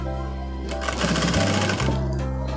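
A sewing machine stitches a shirt, with a steady motorized hum and rapid needle clatter that briefly speeds up and pauses before running again, loud and close.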